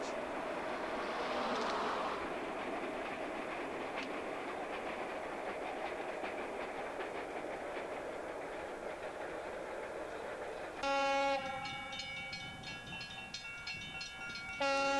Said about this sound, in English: we hear our train approach in the distance and then cross the bridge